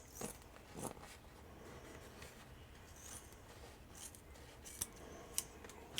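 Scissors snip quietly through material while a custom 12-inch GI Joe Beachhead action figure is being made, giving a few soft, irregular cuts close by.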